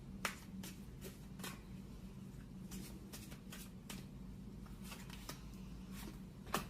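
Tarot cards being shuffled and drawn, giving a series of crisp riffling flicks and snaps at an irregular rhythm over a low steady hum, close and fairly quiet.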